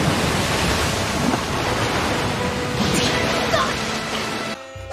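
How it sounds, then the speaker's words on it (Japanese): A Snake's Mouth water release jutsu effect from Naruto Shippuden, a steady roaring wash of surging water like heavy surf, loud and continuous for several seconds before it stops suddenly. "水遁蛇の口。"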